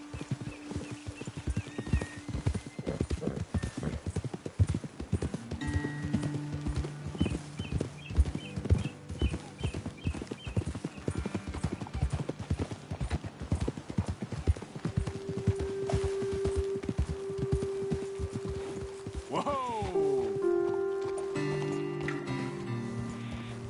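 Horses ridden at a steady pace in Red Dead Redemption 2, their hooves clopping in a continuous loud rhythm over game music, with a whinny partway through.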